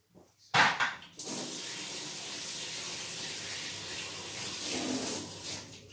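Water runs steadily into a kitchen sink after a short clatter at the start, a continuous close gushing stream from a tap that carries on for several seconds.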